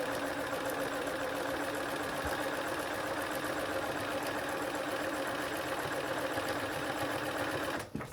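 Sewing machine stitching a marionette skirt seam at a steady fast whir, continuous and close for the whole stretch, ending abruptly as the machine stops, no voices.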